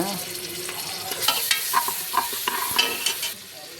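About 100 grams of ginger sizzles in hot oil in a pan for biryani while a spoon stirs and scrapes it, giving a steady close frying hiss broken by soft clattering scrapes.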